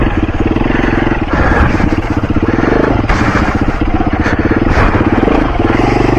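A BMW G450x trail motorcycle accelerates hard along a trail, its single-cylinder engine droning loud and close throughout with a steady rapid thrum and some clatter.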